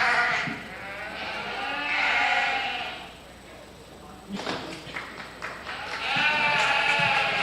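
Dorset ewe lambs and other sheep bleat repeatedly at a county fair sheep show, with several clear, moderately loud calls against a murmuring crowd in a barn.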